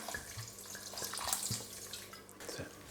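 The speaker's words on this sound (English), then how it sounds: "Now with the wine, put a good glug of that." Wine is glugged from a bottle into a pan of Bolognese sauce, a close, continuous liquid pour with splashy gurgles and faint kitchen clatter throughout.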